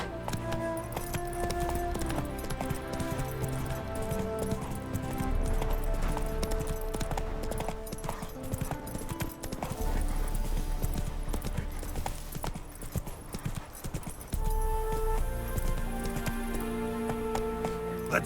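Roach the horse galloping in The Witcher 3 game, rapid rhythmic hoofbeats under a layer of game music.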